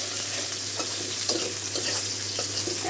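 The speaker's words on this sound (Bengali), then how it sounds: "এখন একটু পেঁয়াজটা ভাজা ভাজা হইতে সময় লাগবে।" Onions sizzle and crackle steadily in a hot pan as prawn and bottle gourd curry is cooked, with a few soft stirring scrapes; the frying is close, continuous and alone.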